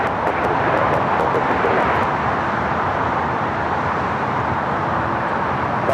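A jet airliner taxis at Los Angeles LAX airport toward runway 25 left, its engine roar steady, broadband and fairly loud throughout, with no voices.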